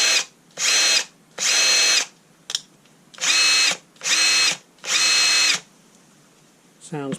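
Kielder 18V cordless impact wrench, freshly restored, fired in six short bursts of whirring hammering, each about half a second to a second long, separated by brief pauses, loud and close with no talking.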